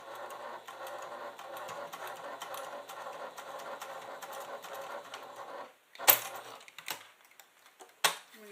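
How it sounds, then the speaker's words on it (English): A sewing machine stitches a quilted leather clutch at a quarter-inch seam, a steady dense mechanical run for about six seconds that then stops, followed by a few sharp handling clicks and knocks. "So 1/4 inch, we're going to go ahead and stitch."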